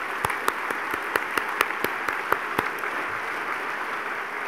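Audience applause at the B&F business and finance awards ceremony, a steady wash of clapping with distinct sharp claps standing out near the start, holding evenly for a few seconds in a large room.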